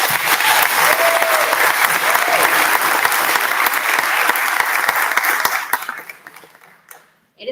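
An audience applauds after a student orchestra concert. The clapping is loud and dense, holds steady for several seconds, then thins out and fades to near silence before a voice returns.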